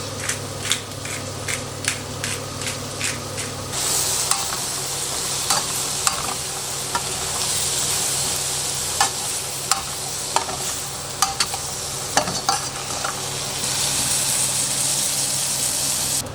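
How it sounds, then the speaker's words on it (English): Mushrooms sautéing in a pan with salt and black pepper, a steady sizzle with repeated stirring scrapes and clicks, close and fairly loud throughout. "Just sauteing the mushrooms."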